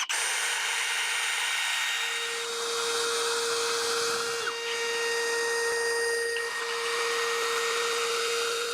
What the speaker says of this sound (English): Now I'm using a 5/8 drill. And I need to put that tip right in the hole.